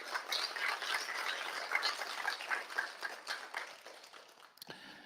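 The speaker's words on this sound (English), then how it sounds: "So big round of applause to our host and co-organizing partner." An audience at a tech summit in a hall applauds, a dense patter of clapping heard at a moderate distance that gradually thins and fades out.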